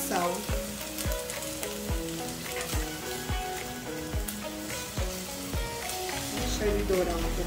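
Corn kernels sauté with onion in a hot pan while creamed corn is made, giving a steady close sizzle punctuated by regular stirring scrapes, with soft background music underneath.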